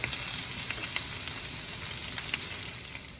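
Peeled, deveined shrimp fry in a hot pan with a steady, loud sizzle and scattered crackles and pops, running continuously with no talking.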